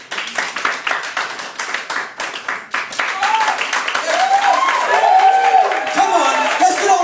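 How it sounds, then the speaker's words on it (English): A comedy club audience claps rhythmically at first, then swells into louder continuous applause with cheering voices rising over it. "I would like you now to start clapping real small."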